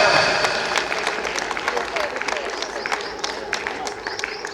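An audience at an inter-dojo karate championship claps in a brisk scattered burst that gradually thins out, with voices murmuring underneath.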